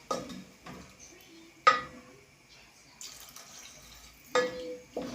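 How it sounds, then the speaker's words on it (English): Water pours into a cooking pot for beef soup in a quiet kitchen, heard as short splashing bursts with clinks of the pot in between, fairly faint and without talk. "So add water for soup."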